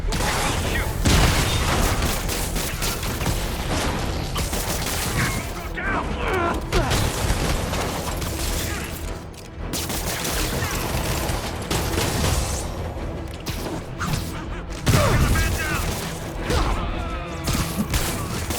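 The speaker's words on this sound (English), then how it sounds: "Way too many bullets flying over there." Gunfire in the Marvel's Spider-Man video game during the fight against Taskmaster: sustained fusillades of rapid shots and mechanical clatter, with heavy impacts and crashes, running densely throughout with voices talking over it.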